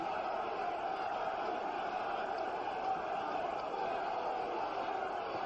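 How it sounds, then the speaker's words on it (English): A large boxing arena crowd roars steadily during a heavyweight bout, a dense distant wash of voices with a rhythmic chant of a fighter's name buried in the din. "as the crowd starts a chant, Larry,"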